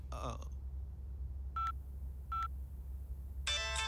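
A telephone rings during a Telugu film scene: a few short, clipped electronic tone bursts spaced apart, then a brighter, fuller ringing burst at the end over a quiet low room hum.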